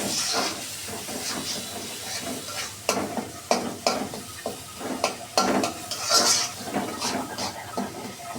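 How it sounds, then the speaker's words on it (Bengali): Chopped tomato stirred into sizzling spices for a Bengali chicken curry, with a steady frying hiss broken by a series of scraping stirs and light clinks of the spoon against the pan, close and clear. "এইভাবে আমরা নেড়ে চেড়ে টমেটোটাকে একদম মশলার সাথে মিশিয়ে দেব।"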